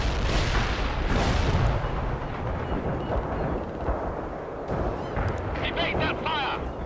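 Artillery shells boom and rumble in the World in Conflict: Soviet Assault war game, a dense, continuous barrage of heavy explosions with a crackling background of battle, loud throughout.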